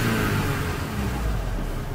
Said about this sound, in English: That sounds good though. It revs good.